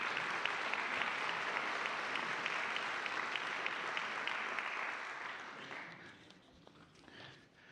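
A church congregation at an annual meeting applauds, a dense sustained clapping that fades out toward the end, heard a little distant.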